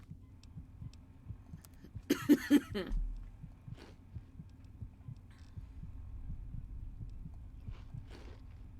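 A low, faint heartbeat throbs steadily in the Fallout 3 video game, with a dull hum beneath it and a few brief clattering noises partway through.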